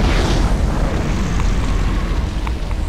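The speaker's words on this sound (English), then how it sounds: "explode the whole map. Just explode all of it." A loud, dense blast of explosions in a Garry's Mod Five Nights at Freddy's map video game, a continuous rumbling roar with crackling bursts that eases slightly toward the end.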